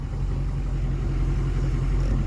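A truck running after a transmission replacement, a steady low engine drone heard close and continuous, with no talk over it.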